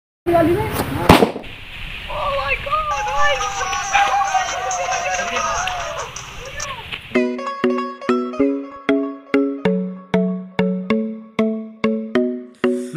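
Crackling Diwali firecracker bursts and babbling voices give way to a steady rhythmic series of sharp, ringing pops, close and loud.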